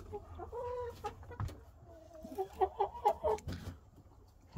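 Hens cluck in short, uneven bursts close by, with a few louder staccato calls toward the end amid soft barnyard noise.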